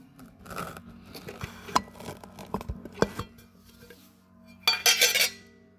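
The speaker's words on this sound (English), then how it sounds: "I'm just going to pull it all out. Run it through our strainer" Freshly tumbled rocks rattle and clatter through a strainer in a series of close, irregular hard clicks and knocks, ending in a louder, dense burst of gravelly clatter.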